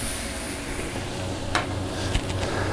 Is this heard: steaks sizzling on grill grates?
yes